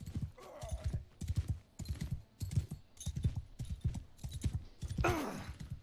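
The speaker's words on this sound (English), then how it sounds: "Now we're kind of got like a really slow horse." Horse hooves clip-clop steadily on the ground in the Mount & Blade II: Bannerlord video game as a slow horse trots along, a loud, even rhythm with a couple of short whinnies rising above it.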